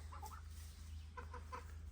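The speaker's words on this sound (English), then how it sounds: "The geese are coming over, wondering who's in their house." Faint clucking honks from a few geese in short bursts, over a steady low mechanical hum.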